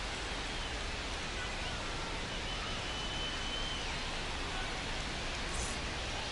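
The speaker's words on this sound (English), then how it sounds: "This rain is not letting up." Steady rain pours over Fenway Park during a baseball game in the seventh inning, a dense, even hiss of drops spread evenly and continuously throughout with no breaks and no voices.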